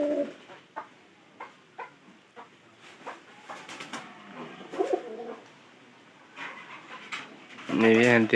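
Domestic pigeons coo in low repeated bursts near a pigeon house, with scattered clicks and rustles between calls and a louder, denser cooing run at the end.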